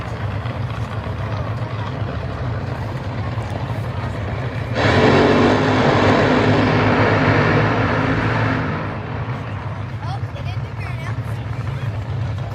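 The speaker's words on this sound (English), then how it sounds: "listen to that Fighting Irish car" A Top Fuel dragster, the Fighting Irish car, makes a qualifying pass at a night drag race: a steady background din swells into a loud, harsh, wall-of-sound roar for about four seconds, then falls back.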